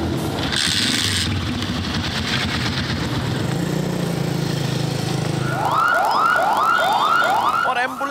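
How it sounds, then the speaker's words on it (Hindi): An ambulance siren wails, rising and falling in repeated sweeps over steady traffic rumble, loud and close, following a stretch of engine and street noise. "और एम्बुलेंस के सायरन भी डेसिबल मीटर की तरह हमारे कानों को सुर्ख किए देते हैं।"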